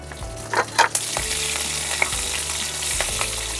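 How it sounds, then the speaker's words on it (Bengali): Green chillies fry in oil with bay leaf, dried red chillies and nigella seeds, giving a close, bright sizzle broken by a few sharp scrapes of stirring. "কাঁচা লঙ্কাগুলো হালকা ভাজা হয়ে গেছে"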